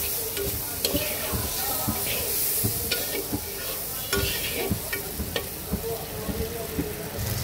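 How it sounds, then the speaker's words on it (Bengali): Turmeric and coriander powder spices lightly frying in a pan for a fish curry, with a steady sizzle and repeated scraping stirs of a spoon, close and alone. "এবার কয়েক মিনিট আমি একটু হালকা ভাজা ভাজা করে নেব।"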